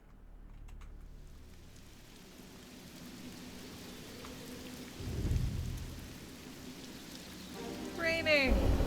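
Heavy rain falls steadily in the video game Marvel's Midnight Suns, with a deep thunder rumble rolling in partway through and some faint chirping tones near the end, all fairly quiet.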